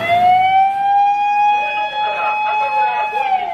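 A white, red and black toy fire truck sounds a steady electronic siren, a clear sustained tone that holds and then slides slightly, close by, with a voice talking over it.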